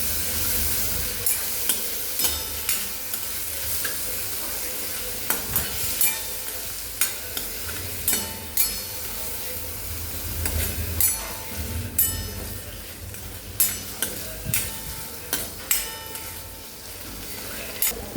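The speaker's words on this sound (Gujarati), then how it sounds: "હવે ટમેટા સોફ્ટ થાય ત્યાં સુધી આપણે આને પાકવા દેવાના છે અને સાથે સાથે હલાવતા રહેવાનું છે" Chopped tomato and onion cooking in a pan for a Gujarati dry mung bean curry (mag nu shaak), stirred repeatedly: steady sizzling with regular scraping strokes of a spoon against the pan, close and moderately loud, no talking.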